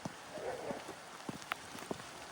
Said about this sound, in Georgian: კაი წვიმა წამოვიდა